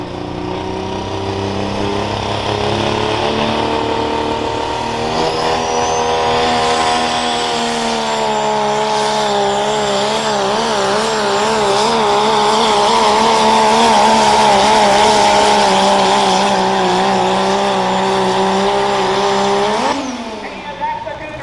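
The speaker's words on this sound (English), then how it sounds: "a 98 Dodge Ram under pressure" A 1998 Dodge Ram pulling truck roars under heavy load at a county fair truck and tractor pull, its engine note loud and sustained for about twenty seconds with wavering pitch before cutting off abruptly.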